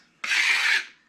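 A single short scrape sounds as a tool pulls excess joint compound off a concrete basement wall, a close, brief rasp that fades quickly.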